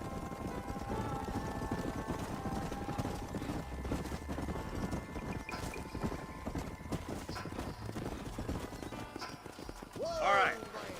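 Horse hooves clip-clop steadily in Red Dead Redemption as riders travel through the game's Western landscape, with someone talking over the continuous rhythmic trotting and a brief louder swell near the end.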